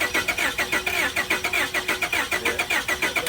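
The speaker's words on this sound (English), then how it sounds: "Couldn't get it to fire, but is turning over, as you could hear." The starter of a 2002 Honda Accord cranks steadily at an auction lot, a close, rhythmic rapid chugging of the engine turning over without catching or firing, continuing unbroken throughout.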